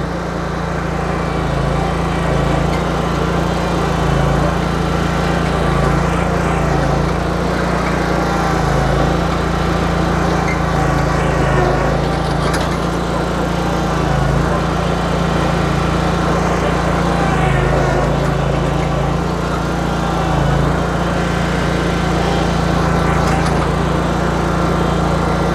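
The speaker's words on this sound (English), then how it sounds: "we'll go ahead and shut the mower down so that my voice isn't drowned out by the engine" A zero-turn lawn mower engine runs steadily and loudly, a constant low droning hum with slight throttle fluctuations for the whole stretch, no talking.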